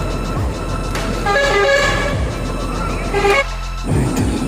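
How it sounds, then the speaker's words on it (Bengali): Several bus horns honk from a busy road beside a railway platform where passengers wait, sounding as short repeated toots and longer blasts over steady traffic rumble, with a brief lull near the end. "বাসের হর্নের শব্দ বেশি করে শোনা যাচ্ছে।"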